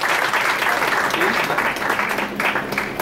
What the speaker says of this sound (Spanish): vamos a recibir con un fuerte aplauso a nuestro invitado especial